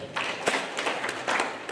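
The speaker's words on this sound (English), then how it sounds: "Can we clap for that one?" An audience at the launch of a citizen report card in Homa Bay County claps briefly, with scattered and uneven hand claps that are fairly faint and slightly distant.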